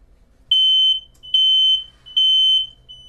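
Three loud, piercing smoke alarm beeps, each lasting about half a second, evenly spaced with short quiet gaps between them.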